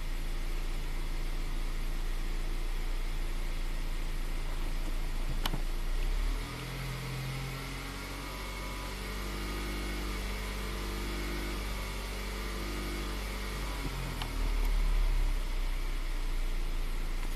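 A Chevrolet Impala with a lean P0171 fault and low power runs steadily, giving a continuous close engine hum whose tone shifts partway through and then holds, with no talking.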